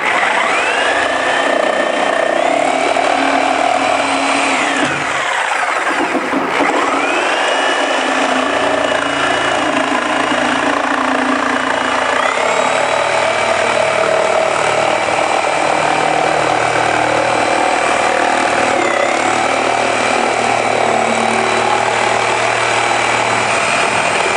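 Power saw cutting through wall sheeting along window framing, a loud continuous whining motor with pitch dips as the blade loads and recovers, running steadily throughout.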